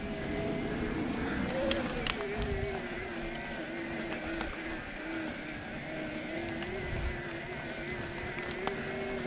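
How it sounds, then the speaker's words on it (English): A 2022 Specialized Levo Pro e-bike motor runs in turbo mode on a trail climb, giving a steady, fairly quiet electric whine that holds under constant wind and rolling noise, with a few faint clicks. "We'll put it in turbo and listen for motor noise here."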